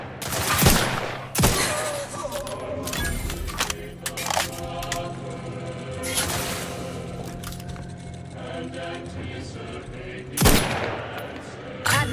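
Bursts of video-game gunfire in Outer Worlds 2, loud sharp volleys at intervals over a steady droning background, with several heavier blasts standing out.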